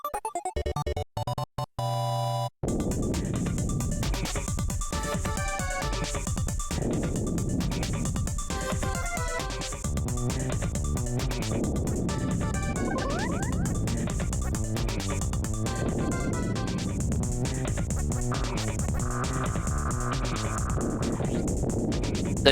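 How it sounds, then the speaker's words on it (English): Bombs bounce around in the Super Bomberman video game, a dense, continuous clatter of chiptune blips and rhythmic electronic tones layered over game music, steady and busy throughout. "it's the sound of the bombs attempting to bounce around"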